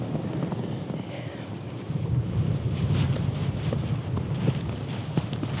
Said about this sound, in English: that wind is very heavy on them